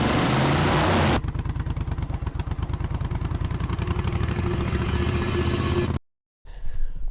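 A 37-year-old Suzuki Intruder 1400 motorcycle engine runs close by with a fast, even train of firing pulses for several seconds, then cuts out abruptly before more noise starts up again.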